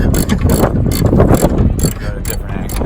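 A socket ratchet clicks in quick, uneven bursts while work is done on a vintage MC5A bus, close and fairly loud, mixed with clanking and some background talk.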